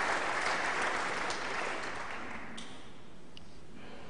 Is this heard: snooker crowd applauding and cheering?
yes